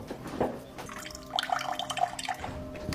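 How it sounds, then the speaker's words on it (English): Cold water running from a kitchen faucet, a steady splashing flow with drips and bubbling into the sink, heard close and fairly quiet over a low background hum. "This is our cold water pressure in the kitchen."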